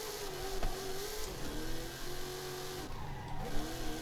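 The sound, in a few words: car spinning its wheels while drifting in video game Forza Horizon 5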